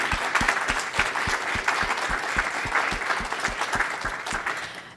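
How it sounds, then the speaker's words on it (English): Big round of audience applause for innovators at a national awards ceremony, dense crowd clapping with a few sharp, rhythmic claps standing out close by, steady throughout and tapering at the end. "we're going to have one very big last round of applause for our innovators"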